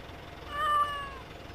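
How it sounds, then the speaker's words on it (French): A single cat meows on a farm map in a video game, a short tonal cry that rises and falls, fairly faint and alone over a quiet background. "on entend un chat, mais on le voit pas sur ta map"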